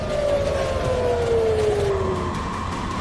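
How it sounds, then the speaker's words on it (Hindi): An air raid siren in Israel during a missile attack wails with a slowly falling pitch over a steady wash of background noise, sounding distant. "इजराइल में कई जगहों पर सायरन की आवाजें सुनाई देने लगी"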